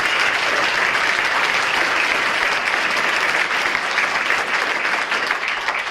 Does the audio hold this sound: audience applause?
yes